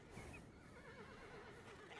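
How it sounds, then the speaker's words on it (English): A horse neighs in the farming video game Farmer's Life, a faint, drawn-out whinny heard from behind a wall with light hoof clopping. "there's a stinking horse through the wall"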